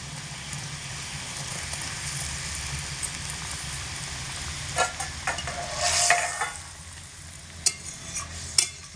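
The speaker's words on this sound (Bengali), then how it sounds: "ফুটিয়ে নেওয়ার পরে আমি এর মধ্যে ভেজে রাখা সমস্ত মাছগুলোকে দিয়ে দিচ্ছি" Fried fish dropped into a simmering milk curry, a soft bubbling sizzle with several clattering knocks and splashes as the pieces go into the pot.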